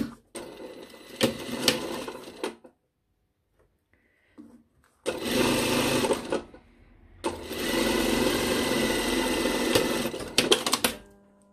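Sewing machine stitching the seams of a lined cranberry jacket, with a 1 cm seam and backstitches at start and end. Three close, steady bursts of stitching, the first broken by short stops, separated by brief silences with faint handling noise.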